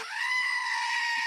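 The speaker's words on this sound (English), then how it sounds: "That's a sound a goat makes" A single goat scream rings out, one sustained nasal bleating cry lasting about a second, loud and alone with no talking.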